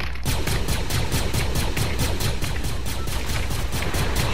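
Rapid, steady gunfire rattles through a shooter video game match with Star Wars weapons, a continuous burst of evenly spaced loud shots over about four seconds, with no talk over it.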